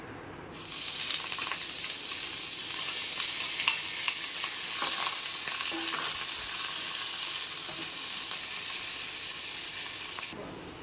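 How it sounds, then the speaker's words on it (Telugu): Paneer sizzles in hot oil in a pan while cooking a paneer butter masala curry, a bright, steady frying hiss that starts abruptly, holds evenly for about ten seconds and then cuts off, close and without talk. "ఇవి కొద్దిగా ఫ్రై అయ్యాక పన్నీర్ వేసుకొని ఆయిల్లో ఫ్రై చేయాలి"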